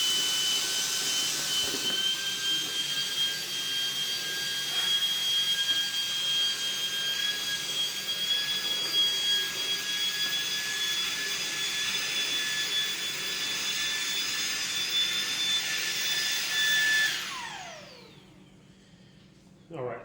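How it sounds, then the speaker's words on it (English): A Shark WandVac handheld vacuum runs with a loud, steady high-pitched whine while sucking up spilled dust from a floor, then spins down abruptly near the end, followed by a brief clunk. "had some dust from another vacuum, so I just kind of spilled it out here, and we're going to suck it up"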